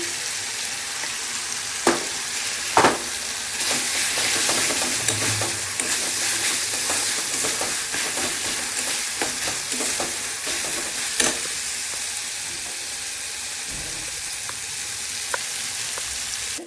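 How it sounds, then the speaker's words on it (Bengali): Spice paste fries in hot oil for mutton kosha, a loud, steady, close sizzle that runs throughout with a few sharp stirring scrapes and taps. "এখন মশলাটা দিয়ে দিচ্ছি পেস্ট করা।"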